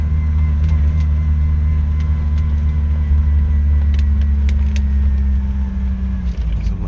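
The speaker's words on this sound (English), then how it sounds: "caught up to some traffic here." Car traffic on the Mt Baldy Road switchbacks makes a steady, close engine rumble that holds for several seconds, with light higher clicks over it.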